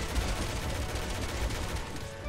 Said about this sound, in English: Yo, I'm unloading the AK into his mouth.